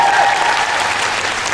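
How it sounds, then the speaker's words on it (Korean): Loud audience applause at a figure skating show rehearsal, dense and steady throughout. "박수 한번 부탁드리겠습니다"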